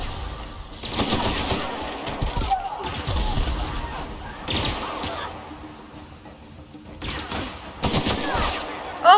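Gunfire in The Outer Worlds video game crackles in several short bursts and volleys among other combat noises, with a voice talking intermittently.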